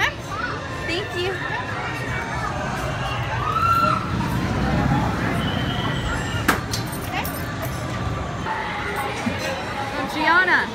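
A crowd of adults and children cheers and chatters at a homecoming where kids greet their returning dad, lively babble with excited shouts and whoops, people talking close by throughout.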